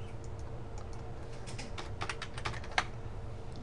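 A computer keyboard is typed on while entering a spreadsheet formula, giving a quiet, fairly close run of irregular key clicks with one sharper tap, and no talk.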